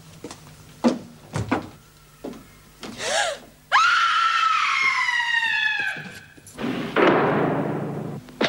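A woman screams loudly in a prison reception area, a long sustained wail that trails off, framed by shorter gasps and cries, scuffling, and a door or cupboard thump.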